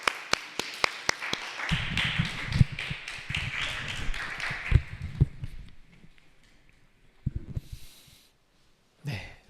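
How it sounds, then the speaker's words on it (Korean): A small congregation claps at a Sunday church service to welcome a visiting mother, sharp scattered claps swelling into a few seconds of close applause before fading into quiet shuffling. "박수로 환영합시다."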